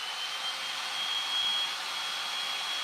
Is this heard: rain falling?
no